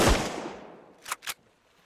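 Gunfire in the survival game Sunkenland: one loud, close shot fading into a long echoing tail, then two quick, sharp distant shots close together.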